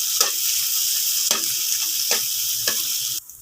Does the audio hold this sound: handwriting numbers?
no